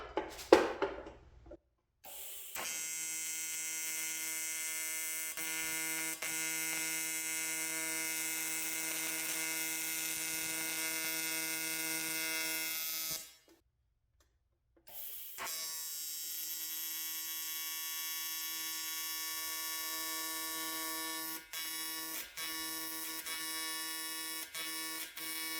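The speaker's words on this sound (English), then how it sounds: "It's welding, I keep dipping in the aluminum." An arc welder runs on aluminum bungs for a turbo two-stroke engine, giving a steady, loud electric buzz that holds for long stretches, pausing briefly between beads.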